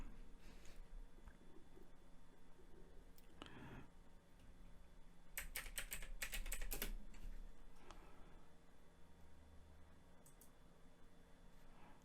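Korean text being typed on a computer keyboard gives soft key clicks that come in a few short bursts, with one dense flurry in the middle. The sound is faint and close against a quiet room hum, with no talking.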